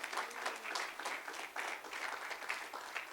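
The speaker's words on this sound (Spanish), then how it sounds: "Dale un aplauso al Señor." Church congregation applauding the Lord during a Sunday service, a steady wash of many hands clapping at moderate distance, fairly quiet and even throughout with no voices over it.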